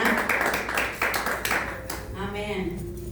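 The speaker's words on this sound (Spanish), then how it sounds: "Denle un fuerte aplauso a estos voluntarios aquí esta mañana." A church congregation claps for volunteers during a morning service. Brisk hand claps sound for the first second or two and then thin out, giving way to a voice and a faint musical tone.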